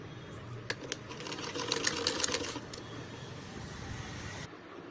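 A sewing machine stitches a padded princess-cut blouse, running in a steady rapid chatter with a few louder clacks, moderately close and continuous until it stops near the end.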